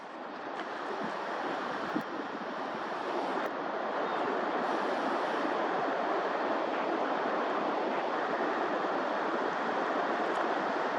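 Ocean surf washes in a steady, broad roar as the tide goes out, continuous and fairly loud for the whole stretch, with some wind noise and no voices.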